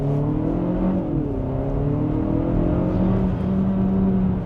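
A Kia Sportage with a 1.6 turbo engine in Sport mode accelerates at full throttle, a steady, loud interior engine drone rising and dipping in pitch as it revs, with no talking.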